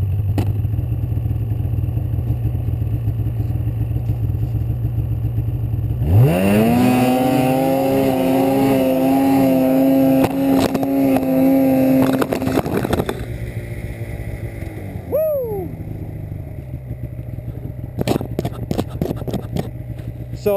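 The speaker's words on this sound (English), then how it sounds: "I held it pinned and rocked the sled around" A snowmobile stuck in soft snow has its engine pinned at full throttle, rising sharply into a loud, sustained high-revving whine, then dropping off with a brief blip and fading into clattering and rumbling noise, no talk.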